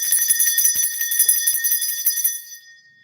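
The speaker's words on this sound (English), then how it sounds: "So I'm going to ring the bell" A small bell rung rapidly, bright high-pitched tinkling repeated for a couple of seconds before fading into a clear ringing decay, close and fairly loud with no talking.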